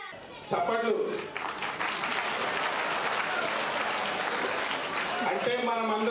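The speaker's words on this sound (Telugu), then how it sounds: "చప్పట్లు" A crowd claps in sustained, dense applause at a public event marking National Voters' Day, loud and steady for several seconds, with a voice heard briefly at the start and end.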